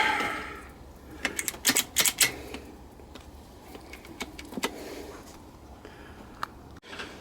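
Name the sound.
installing an oil drain plug on a Honda C90E engine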